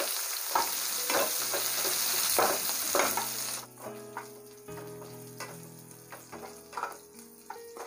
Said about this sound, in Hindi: हम इसको गोल्डन ब्राउन होने तक फ्राई करेंगे